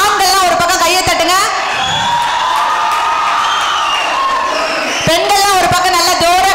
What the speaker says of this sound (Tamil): ஆண்கள்லாம் ஒரு பக்கம் கையை தட்டுங்க